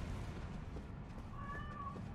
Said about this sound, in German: die Katze, die im Hintergrund schreit, qualvoll, weil sie Aufmerksamkeit möchte und die andere Katze ärgert